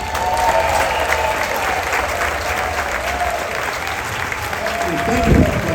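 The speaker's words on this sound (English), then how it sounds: "They deserve your applause." An audience at a top-tier guest event aboard the cruise ship Wonder of the Seas on its inaugural sailing applauds the ship's crew, with steady, sustained clapping from a large crowd and some voices mixed in.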